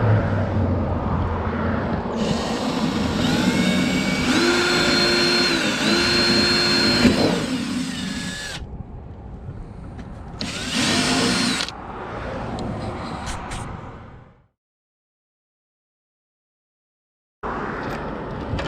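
A power drill bores out a hole in a fiberglass bedside on a 2016 Chevy Silverado Z71. The motor whines loud and close for several seconds, bursts again briefly, then cuts to silence before restarting.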